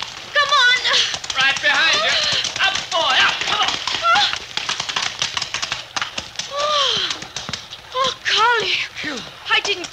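Horse hooves clip-clop at a riding pace, a quick uneven patter running beneath nearly constant excited voices calling out as the riders go.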